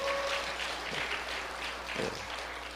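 An audience at a church communication seminar in Korea claps steadily throughout, a dense, even wash of applause from a roomful of people at moderate distance, with no speech over it.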